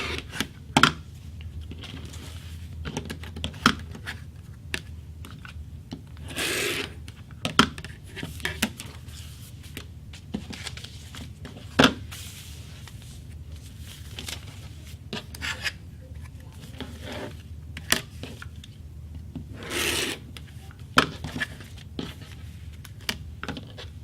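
Scissors or a rotary cutter cut and trim quilt fabric, making irregular soft snips and rubbing strokes close by, with quiet pauses between them.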